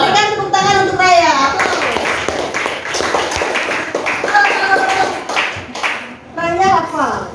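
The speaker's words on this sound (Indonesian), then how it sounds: "Berikan tepuk tangan untuk Raya." Classroom applause for a student, a quick round of children clapping in unison at close range, mixed with kids' voices and a teacher speaking between bursts.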